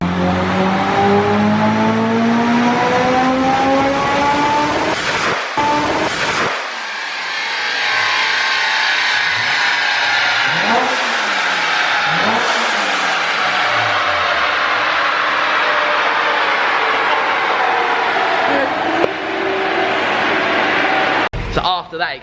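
A modified Honda S2000 engine screams on a dyno, revving up through long rising sweeps to a high wail, then dropping away and blipping repeatedly in sharp rising and falling bursts, loud and close in an enclosed room.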